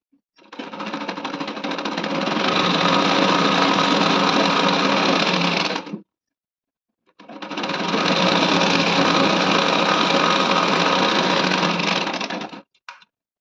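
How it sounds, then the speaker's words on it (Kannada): An overlock sewing machine stitches a blouse neck in two long runs of rapid, steady mechanical whirring, each lasting about five seconds and separated by a brief silent pause. "ಈಗ ಓವರ್ಲಾಕ್ ಮಾಡ್ಕೊಂಬರ್ತೀನಿ"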